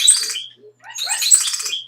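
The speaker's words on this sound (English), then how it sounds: "Come on, bird. Let's listen here for a minute." Two bursts of bright, rapid bird chirping and tweeting, fairly close and clear, separated by a short quiet gap, with no voices.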